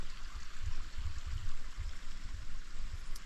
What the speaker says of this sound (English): there's a creek running right down there